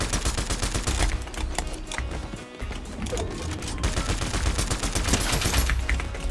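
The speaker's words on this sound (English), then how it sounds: "This gun just blazes through." Rapid automatic gunfire in a shooter video game, a dense continuous stream of sharp shots rattling on without pause at steady loudness, with a brief dip partway through.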